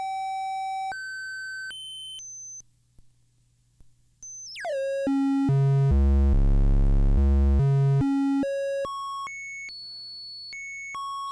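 A DIY 555 timer synth arpeggiator steps through loud electronic square-wave tones that jump between high and low pitches, dropping into a deep buzzing bass stretch before rising again, with no talk.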